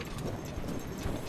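In Tears of the Kingdom, horse hooves clip-clop in a quick, steady rhythm with no voices.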